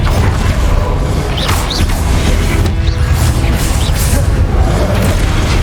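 An Expelliarmus spell cast during a Hogwarts Legacy boss fight gives booming crashes and swishes amid a dense, loud game soundscape, with a player's voice briefly over it.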